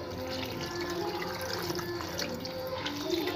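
Water poured into a cooking pot holding ground dried coconut while preparing a curry for chicken dum biryani, a steady continuous splashing and trickling stream, close and moderately quiet throughout.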